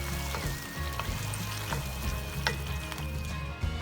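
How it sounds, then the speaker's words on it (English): Italian chicken stew with tomato paste and a little water simmers on slow heat in a pan, a steady low bubbling and gentle sizzle with a few soft clinks, close and continuous with no talking. "this has been slowly simmering for 15 minutes"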